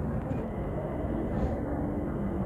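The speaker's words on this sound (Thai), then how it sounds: "รถไฟกำลังเข้ามาค่ะ" A steady low rumble of an approaching train fills a station, continuous and moderately loud with a broad hum throughout.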